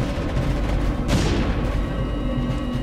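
Ship guns firing in a Stormworks naval battle, one sharp heavy blast partway through over a constant rumbling engine and water drone.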